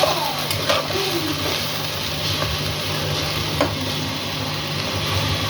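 Four or five green chillies stirred into chicken biryani masala frying in a pot: a steady close sizzle, with the scrape and shuffle of stirring running throughout and no talking.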